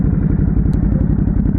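Ducati Hypermotard 921 motorcycle with an aftermarket exhaust, idling loud and close with a rapid, lumpy, even pulsing beat.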